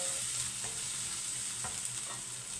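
Garlic cloves added to softened onion sizzle and fry in a pan with light stirring, a close, steady crackle with a few soft scraping clicks and no voices.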